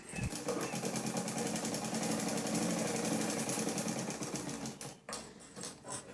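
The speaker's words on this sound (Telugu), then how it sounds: "నెక్ రౌండ్ చుట్టూ పాదం మందం ఖర్చుతో స్టిచ్ అనేది వేసుకుంటున్నాను" Domestic sewing machine running steadily while stitching around the neckline of a slippery polyester georgette umbrella frock, a close continuous mechanical whir with rapid rhythmic needle pulses, briefly pausing near the end.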